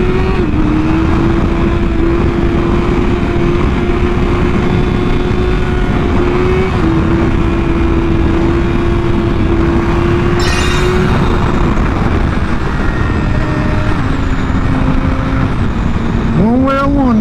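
A Yamaha R6 sport bike engine drones steadily as it pulls a wheelie onto the interstate, its pitch dipping and shifting, then revving sharply near the end under constant wind rush.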